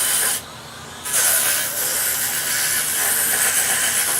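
An 80-grit rotary sander grinds epoxy off coasters, a steady broadband hiss running close and loud almost throughout, with a brief drop in level early on before it picks up again.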